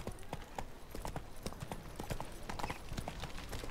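Roach, the horse in The Witcher 3 video game, gallops with rapid, rhythmic hoofbeats. The clip-clop is close and steady throughout, with no talk.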